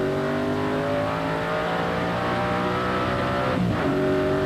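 Onboard a 1994 TVR Tuscan race car, its 4.5 litre V8 roars loud and steady with layered engine harmonics, a brief dip and shift in pitch near the end as the driver lifts and gets back on the throttle.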